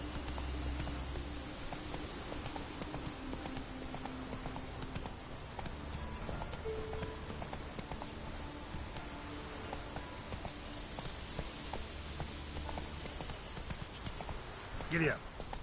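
A horse gallops in The Witcher 3, with steady rhythmic hoof clip-clops running throughout at moderate level and a brief whinny-like sound near the end.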